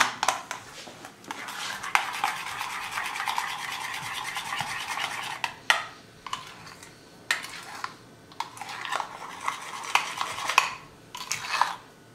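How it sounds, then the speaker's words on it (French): A spoon scrapes and clinks against a bowl while sweet mayonnaise is stirred into a broccoli salad, with continuous rasping strokes broken by a few sharp taps, close and fairly loud, without talk. "Je mélange un petit peu."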